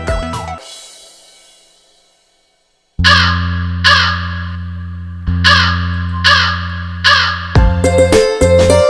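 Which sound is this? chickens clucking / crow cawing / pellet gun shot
crow cawing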